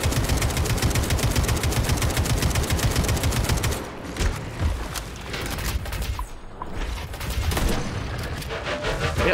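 Rapid automatic gunfire from a weapon in the video game Atomic Heart, loud and close in fast rhythmic bursts, briefly pausing, then resuming in heavy volleys.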